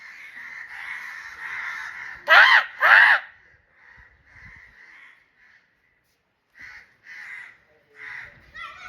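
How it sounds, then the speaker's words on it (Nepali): Crows caw overhead in open sky, a series of loud harsh calls in short bursts with two especially strong caws near the start and more scattered answering caws later, some nearer and some farther off. "सबै कागहरू यहाँ माथि आउँछ एकैछिनमा"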